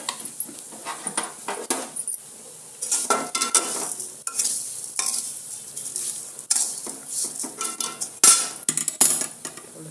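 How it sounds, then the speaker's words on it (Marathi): Vermicelli roasting in ghee is stirred around a pan, giving repeated scraping and rustling strokes over a light sizzle at close range. "आपण शेवाळ्या भाजून घेऊया."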